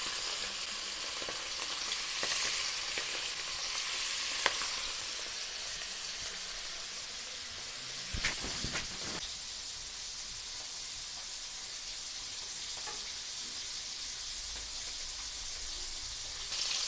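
Bhola fish frying in oil in a pan: a steady, close broadband sizzle that runs throughout, with a few brief clatters and stirring bursts partway through.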